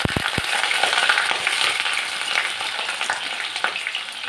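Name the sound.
pointed gourd (potol) frying in oil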